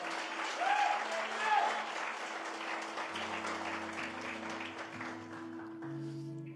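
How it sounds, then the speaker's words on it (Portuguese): Church congregation applauding in praise of God, a broad wash of clapping that swells early and then holds steady, with a voice and sustained organ-like tones over it. "aplaudir o Senhor?"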